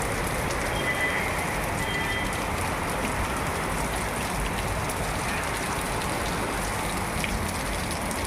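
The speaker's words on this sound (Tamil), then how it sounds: "நல்ல மழை பெய்யுது, சூப்பராக இருக்குது கிளைமேட்டு." Heavy evening rain pouring down steadily around a house, a dense, even hiss of drops hitting surfaces that continues without a break.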